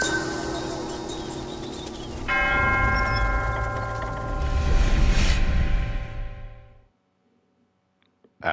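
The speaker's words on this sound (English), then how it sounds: "Should I ring the bell?" A large bell in the video game Black Myth Wukong struck once, its loud clang ringing with long, bright overtones that slowly decay into near silence.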